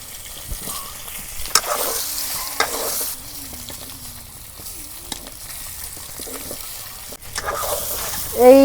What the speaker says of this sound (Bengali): আলুগুলা ভাইজা নেই।